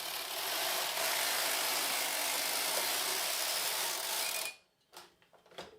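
A knitting machine carriage slides across the needle bed while knitting a two-color QR code pattern for a dress, giving a loud, steady mechanical rattling whir for about four and a half seconds before stopping abruptly, followed by a few faint clicks.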